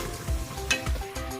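Ginger garlic paste frying in a pan for an aloo phaliyan and chicken keema dish, giving a steady close sizzle with a few louder spattering bursts and no voices.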